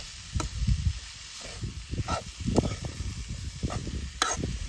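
Chutney and turmeric frying in oil in a pan over a wood-fired stove, a soft continuous sizzle with scattered crackles and stirring scrapes, close but fairly quiet.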